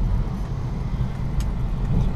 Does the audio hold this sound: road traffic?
yes